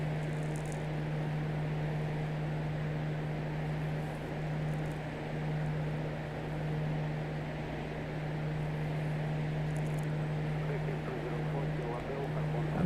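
A small airplane cruises toward a flight level of about 15,000 feet, heard from inside the cabin as a steady, even engine drone with a constant low hum throughout.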